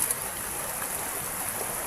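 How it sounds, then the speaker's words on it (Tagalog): Steady rushing of strongly flowing stream water, a continuous broadband wash with no voices. "malakas pa yung agos ng tubig."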